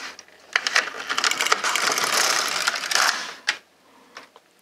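An LK 150 knitting machine carriage slides across the needle bed knitting a row of a slipper sock, a loud close rasping, ratcheting clatter lasting about three seconds, ending with a sharp clack and a fainter click.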